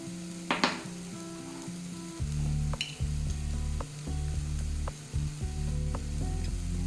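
Ground spices (turmeric, hot chili powder and cumin) fry for chana masala, a steady sizzle in a pan punctuated by stirring scrapes and utensil clinks, with no talk.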